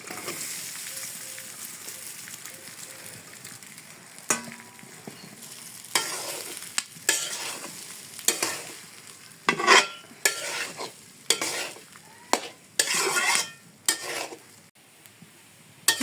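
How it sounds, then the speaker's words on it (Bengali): Rice is fried and stirred in a pan in a village kitchen, with a low sizzle under repeated loud scraping strokes of a spatula against the pan, irregular and close, with no talking. "ভাত ভাজা শেষ, এখন আমি নামিয়ে নিই।"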